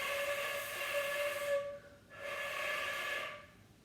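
Two breathy tones blown on a flute, each held for over a second with a short gap between, airy hiss around a steady pitch, close and fairly quiet.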